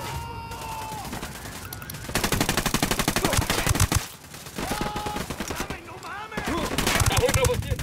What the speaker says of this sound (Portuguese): Tô atirando nesses bostas